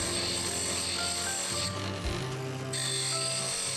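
A twist drill bit is ground against a sharpening wheel in a simple drill jig with a mechanical stop, giving a steady close rasping grind with a brief shift in tone partway through.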